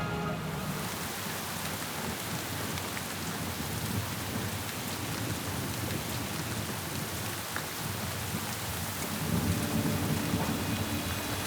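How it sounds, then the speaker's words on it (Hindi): Heavy rain pours steadily with a low rumble of thunder rolling underneath, a dense and unbroken wash of sound. "इतनी खतरनाक बारिश"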